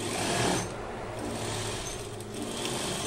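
A sewing machine stitching the hem of a pair of jeans, a steady close mechanical whir that holds throughout with a brief louder surge near the start.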